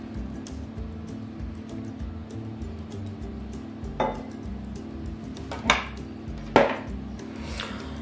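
Cauliflower is coarsely chopped in a manual chopper rather than with a knife. A low, steady hum runs underneath, and a few sharp clacks and knocks land a second or so apart.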